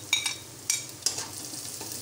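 Light-brown fried onions and green chillies are stirred in a hot pan. A few sharp spoon scrapes stand out over a steady, close sizzle.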